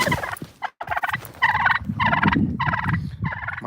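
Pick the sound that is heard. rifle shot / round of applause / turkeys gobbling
turkeys gobbling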